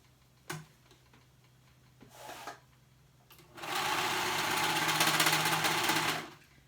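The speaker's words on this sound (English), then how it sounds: "We're going to go ahead and sew that sleeve on." Sewing machine stitching a sleeve with ruffles onto a dress through three layers of fabric. A few short clicks and taps come first, then one steady, loud run of rapid stitching for about three seconds before it stops.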